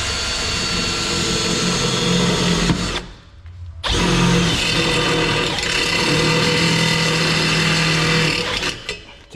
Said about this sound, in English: So I'm just gonna grab the step bit and start drilling.